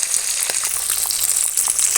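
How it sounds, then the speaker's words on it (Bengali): Pieces of silver carp fish frying in hot oil, a constant close, fairly loud sizzle with small crackles, with no voices over it. "মাছগুলো ভাজা প্রায় হয়ে এসেছে আর একটু ভেজে নিয়েই মাছগুলো তুলে নেব"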